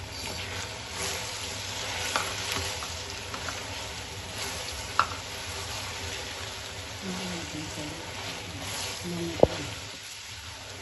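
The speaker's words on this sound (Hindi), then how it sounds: "अब इसमें हमने डालनी है टमाटर और हरी मिर्चियों की कटिंग की हुई है और इसको हिला देते हैं।" Chopped tomatoes and green chillies sizzle and fry in a pan with sautéed onion for an achari bhindi gosht dish, a steady crackling hiss with occasional scraping stir sounds and a couple of sharp clinks.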